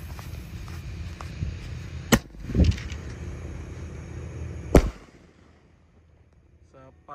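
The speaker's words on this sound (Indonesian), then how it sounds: "ini ada mercon yang menggelegar juga, namanya elang mas guys" Elang mas firecracker lit on the eve of Eid, a crackling fizz and a sharp bang, a whooshing burst, then a second loud crack before fading to near silence, outdoors at night.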